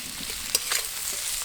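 Chopped onions fry in a pan with a steady, close sizzle and crackle, a few brief stirring scrapes rising above it, with no talking.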